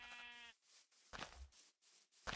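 A Minecraft sheep bleats once in a quavering tone, followed by softer, rustling game sounds and a brief burst near the end; no speech.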